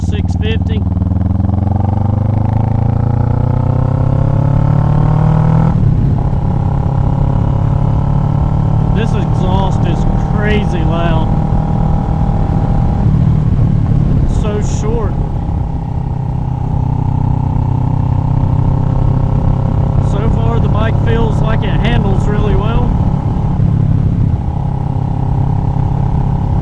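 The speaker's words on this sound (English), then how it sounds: "This is the first ride for the Ninja 650." A Kawasaki Ninja 650 fitted with a Delkevic exhaust and Bazzaz ZFI tuning is ridden on the road, its engine droning loud and close, pitch climbing through the gears with brief dips at each shift.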